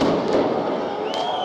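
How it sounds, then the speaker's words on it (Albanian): Fireworks being fired toward the prime minister's office during a street protest, heard as a dense crackling, rumbling burst with a thud and a rising whistle near the end, loud and close. "Ka nisur në mënyrë intensive fishek zjarret në drejtim kryeministrisë."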